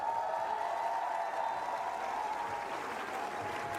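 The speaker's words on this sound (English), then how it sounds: "큰 박수 한번 부탁드릴까요?" Tennis audience applauding after a Seoul match, a sustained round of clapping from a large crowd fading slightly toward the end.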